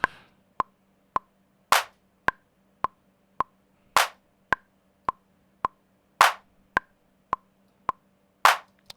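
A clap/snare sample, heavily boosted with EQ in Logic Pro X, repeats as sharp, isolated hits in a steady pattern. Some hits land louder and brighter, and each is separated by short silence.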